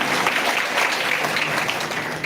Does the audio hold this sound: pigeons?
no